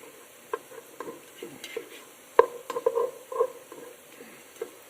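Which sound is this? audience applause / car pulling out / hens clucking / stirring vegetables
stirring vegetables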